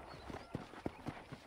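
Hooves of a horse in the Red Dead Redemption game clip-clop on a ranch, about five spaced, moderately loud thuds falling in an uneven walking rhythm over faint background ambience.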